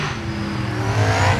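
A car engine revs steadily, its pitch climbing slightly toward the end, loud and close with a constant mechanical hum.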